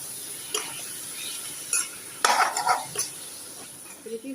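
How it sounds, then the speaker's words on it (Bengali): Cabbage fries in a pan at home, a faint sizzle under scattered stirring scrapes and clinks of a utensil against the pan, quiet and close. "বাঁধাকপি একটু ভাজি করবো"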